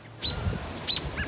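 Small birds give sharp, high chirps near their nest of blue eggs in a tree, two or three close calls spaced apart over light rustling.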